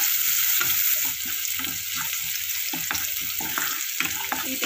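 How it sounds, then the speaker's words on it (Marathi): Onions for kanda pohe sauté in a hot pan, a bright steady sizzle under repeated scraping and knocking of a spatula stirring at a quick, uneven rhythm, with no voices. "कांदा व्यवस्थित परतून घ्यायचा आहे।"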